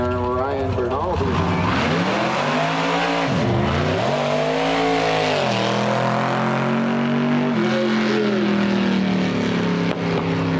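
Supercharged 1976 Chevrolet Corvette racing at Barona Drag Strip, its blown engine roaring loud and close with repeated rising and falling revs as it launches and pulls through gears, an announcer talking over it.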